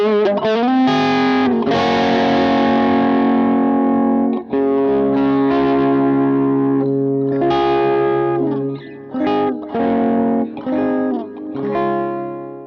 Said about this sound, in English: Next up, some modulated delay.